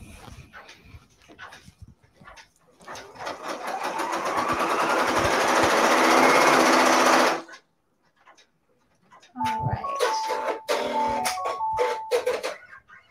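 An embroidery machine stitches a fabric pumpkin stem, a steady rising whir for several seconds, then stops, followed by rapid stitching with short beeping tones.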